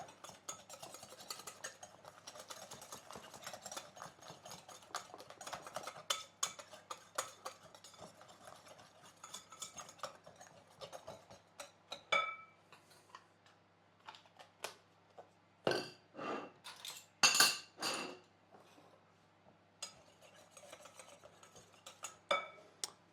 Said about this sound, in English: And then I'll just mix together the eggs and the flour.